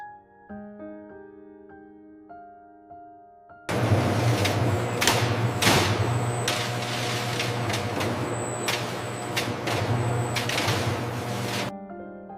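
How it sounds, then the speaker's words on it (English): Spaghetti cutting machines run in a pasta factory, a loud steady mechanical roar with a low hum and repeated sharp clatters and hisses, starting abruptly after a few seconds of quieter tonal sound. "The spaghetti will now be cut into uniform lengths for packaging."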